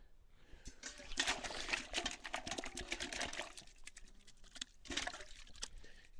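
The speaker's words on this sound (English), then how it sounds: "once I wash my hands" Hands are washed under an outdoor tap next to a ute, with running water and uneven splashing nearby that swells and dips, sounding soft and fairly faint.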